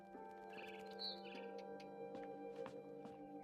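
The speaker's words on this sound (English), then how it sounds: "Then I heard chirping outside my window." Birds chirp outside a window in the video game What Remains of Edith Finch, short bright tweets set against a steady tonal hum from the game's background sound, soft and fairly close.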